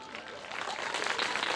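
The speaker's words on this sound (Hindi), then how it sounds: "क्योंकि ताली उधर से ही उठी है, इधर से नहीं उठी है" An audience at a Shri Ram Katha religious gathering in Karahiya Bazar, Raebareli, breaks into steady applause, the clapping building gradually louder over a moment with a faint murmur beneath.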